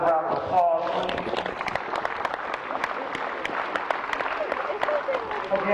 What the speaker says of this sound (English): We want to give them another round of applause, please.